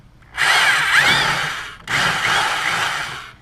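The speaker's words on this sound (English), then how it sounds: "Now we got electricity, and I'm going to drill." An electric power drill bores into a part while a Polaris Slingshot body kit is being fitted, two close, loud whirring bursts of about a second and a half each, separated by a brief pause.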